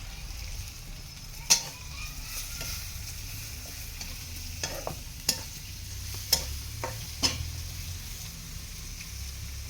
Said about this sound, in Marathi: आता याच्यानंतर आपण डायरेक्ट याला फोडणी देणार आहोत